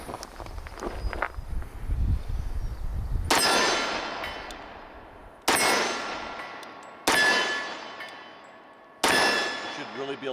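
Single-handed shots from a SIG Sauer P220 Legion 10mm pistol fitted with a DPM recoil system: after a stretch of rustling, four loud, sharp reports ring out a couple of seconds apart, each with a long decaying echo.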